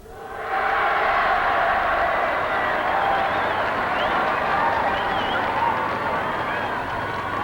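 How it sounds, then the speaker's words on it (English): Applause from Catholic faithful at an outdoor papal address fills the air as one broad, sustained wash of clapping, with a cheering crowd heard from a distance and no break. "greeted by bursts of applause and flag waving from Catholics in the crowd who recognized their native tongue"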